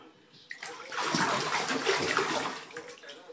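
A baby splashes in a bathtub, with close, busy sloshing and splattering of water that builds after a brief pause and carries on steadily, with no talking over it.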